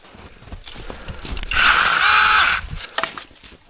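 A SUPSTABLE lithium-powered mini electric chainsaw trims a trail. It gives one loud, whining cutting burst of about a second, with quieter rustling and clicks before and after.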